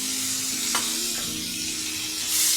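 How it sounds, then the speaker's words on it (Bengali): Onion paste dropped into hot oil with black cumin and red chili, a steady close sizzle and frying hiss with faint stirring, no talking. "কালো জিরা লাল লঙ্কাটা দিয়ে এখন আমি তাতে দিয়ে দিব পেঁয়াজ বাটাটা"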